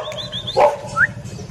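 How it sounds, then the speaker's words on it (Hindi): A stray dog gives a couple of short, sharp barks mixed with a yip, nearby and moderately loud over faint street background. "भौंक भी रहा है और भाग भी रहा है"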